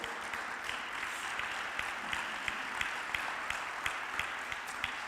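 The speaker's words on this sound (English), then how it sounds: "Please give them a very warm round of applause." Audience applause for a pair of dancers taking the floor at a Latin dance partnering lecture, a steady wash of clapping with a few sharper individual claps standing out, moderately loud and sustained throughout.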